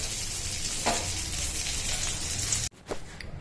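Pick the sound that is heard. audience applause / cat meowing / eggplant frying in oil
eggplant frying in oil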